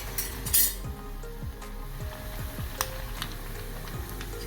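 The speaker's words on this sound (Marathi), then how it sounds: "छान तळून घ्यायच्या खमंग." Puris deep-frying in hot oil in a home kitchen: a steady low sizzle under repeated metal clinks and scrapes of a slotted spoon against the pan, close and without speech.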